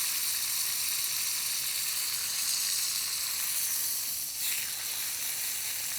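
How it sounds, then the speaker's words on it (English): Meat sears in a cast iron pan with a steady, close sizzle and a faint hiss that runs without pause. No one speaks. "just give that a nice little sear"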